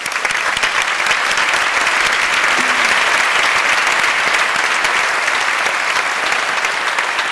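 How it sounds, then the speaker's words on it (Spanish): Loud, sustained applause from the audience at a 2013 graduation ceremony, dense steady clapping throughout with no talk over it. "Un aplauso para ellos"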